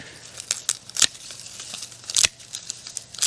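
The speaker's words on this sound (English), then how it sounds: "we might just cut a couple of these vines off" Potato vines are snipped off outdoors during harvest, giving several sharp, close cutting snaps with a rustle of leaves between them.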